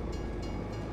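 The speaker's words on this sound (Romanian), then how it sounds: "Bun, a venit trenul." Train arriving in the farming video game Farming Simulator 22, a brief steady rumble of rolling rail cars with faint rhythmic clatter, fairly close and continuous.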